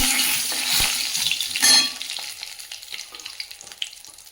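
Whole garam masala and bay leaves hit hot oil with a loud burst of sizzling. The hiss then settles into a quieter, crackling fry with small pops.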